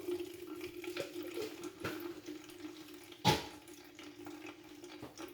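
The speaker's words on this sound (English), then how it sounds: "so now it's gonna run it through my strainer" Cucumber juice is poured through a strainer, a faint trickle and splash of liquid with a few soft drips and a single louder splash in a quiet kitchen.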